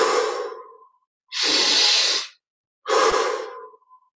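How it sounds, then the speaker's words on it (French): Three long, airy breaths during a guided meditation: a slow mouth exhale, a strong steady breath in, then another exhale trailing off, each close and loud with silent pauses between. "Expire par la bouche."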